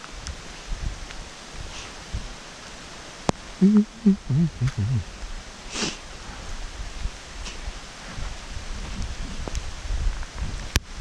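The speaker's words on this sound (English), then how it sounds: "A little shelter from the rain." Rain falls outdoors in East Lothian as a steady, soft patter and rustle, with a few closer taps and brief thumps nearby partway through.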